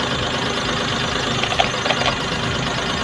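Engine of a car running steadily at around 100 decibels during a fuel-economy test with a Grafinol oil supplement, a constant mid-pitched drone heard close and alone throughout.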